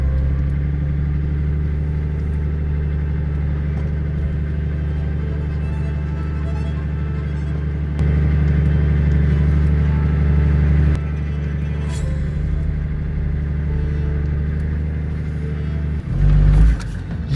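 A car engine revs hard while the vehicle sits bogged on a muddy abandoned track in a storm, a loud sustained rumble that surges louder midway and again near the end, with no talk.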